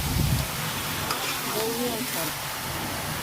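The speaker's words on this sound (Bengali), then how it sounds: "মুরগির মাংসটা পানি ঝরাতে জালিতে রেখে দিয়েছিলাম, পানিটা ঝরে গিয়েছে, সেটাই আমি সেই পেঁয়াজ বেরেস্তার মধ্যে দিয়ে ভালোভাবে নেড়ে চেড়ে নেব" Chicken pieces frying with crisp fried onions in a pan for chicken biryani, a steady broadband sizzle with stirring scrapes throughout, close and fairly even in loudness, no voices.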